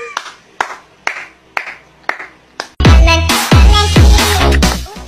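Six crisp hand claps land in a steady rhythm, close and distinct, before a sudden loud, dense wash of other sound takes over.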